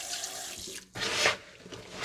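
Water running from a tap into corn tortilla dough, a steady splashing pour with a brief break partway, fairly close and alone.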